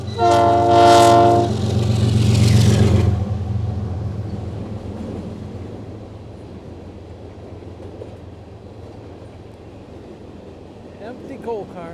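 Loud train horn blasts with harmonic tones over the first three seconds as a freight train of empty coal cars rolls by, followed by a steady low rumble and rattle of the passing cars that continues to the end.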